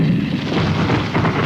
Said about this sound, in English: more artillery becomes available to lay down a heavier barrage